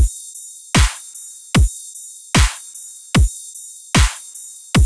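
Electronic halftime drum loop with a booming kick and snare, an off-beat clap and steady quarter-note rides with reverb tail, repeating in a loud, even rhythm with no voices.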